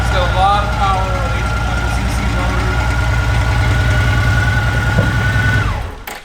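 A 2004 Honda Rune with an 1800cc Goldwing-derived engine idles in neutral, a loud, steady low rumble that runs evenly close by before cutting off at the end.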